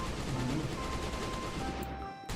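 Bandits trade gunfire in the video game Last Day on Earth, a rapid, evenly spaced burst of shots that holds steady and then cuts off near the end, with a voice faintly underneath.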